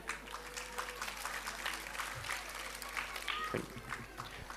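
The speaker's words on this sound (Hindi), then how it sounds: "और पहले इन तीनों लोगों के लिए तालियां" Parents and guests at a school annual function give a steady round of applause, moderately distant, with a low hum underneath and a few voices mingling in.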